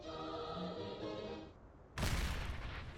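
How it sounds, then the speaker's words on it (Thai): A holy water bomb bursts in a horror playground game, a sudden loud booming blast cutting through a steady background game hum. "อีกลูกหนึ่ง ระเบิดน้ำมนต์"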